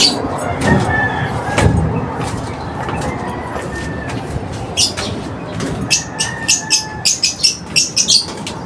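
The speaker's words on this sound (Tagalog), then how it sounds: "Ang dami na namang ibon doon oh" Pigeons and other birds chirp outdoors around a pigeon loft in the morning, with scattered tweets growing busier and sharper toward the end over a steady background hum.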